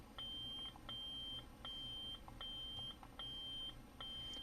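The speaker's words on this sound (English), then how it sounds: "That beep says we're in the volume menu." Short electronic beeps from a Neopixel lightsaber's volume menu repeat in a steady rhythm, about six evenly spaced high-pitched tones over a faint background hum.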